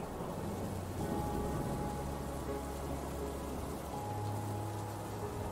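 Heavy storm rain falls in a steady, dense hiss with a low rumble of thunder beneath it, continuous and fairly quiet, with no voices.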